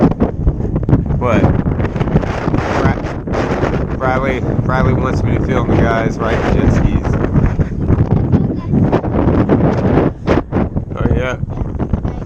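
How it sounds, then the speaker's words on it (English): Loud, constant wind buffeting the microphone, a rough roaring rumble throughout, with a person speaking underneath. "it's way too windy"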